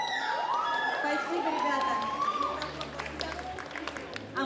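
An audience at an award ceremony breaks into applause and cheering, a steady wash of clapping that runs under someone speaking into a microphone.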